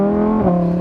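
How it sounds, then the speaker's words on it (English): Lamborghini Huracan V10 with a race exhaust blipping through a quick downshift, a brief loud burst of engine tone rising and falling, close by and alone. "listen to that, downshift."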